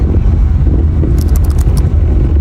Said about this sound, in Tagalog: marami nang sasakyan.